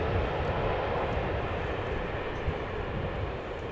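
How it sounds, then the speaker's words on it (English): An Airbus A330-300 touches down gently on the runway at Amsterdam Schiphol, its broad steady jet roar filling the air at moderate loudness from nearby, with no voices. "it is an A330 300 in a typical A330 fashion, touching down very gently, a little bit of a wheelie."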